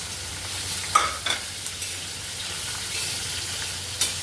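Chana dal, garlic and spices dry-roasting in a pan for a green masala, with a steady low sizzle and a few sharp scrapes and taps of the spoon as everything is stirred.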